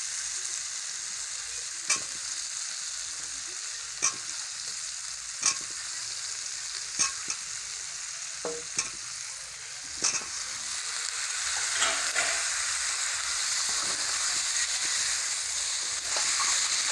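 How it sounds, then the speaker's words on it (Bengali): Meat fries in a pot with potatoes added during a home picnic cook-up, a constant strong sizzle with regular sharp clacks of a stirring spoon every couple of seconds, the hiss swelling slightly in the later part. "মাংসটা ফ্রাই হয়ে গেছে হালকা। এখন আলু দিব।"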